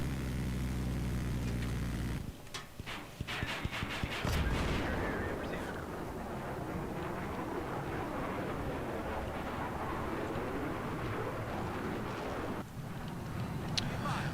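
Rocket pods on a jet fire in a video game as a dense roar of rapid blasts and explosions. The noise carries on loudly with crackling bursts throughout.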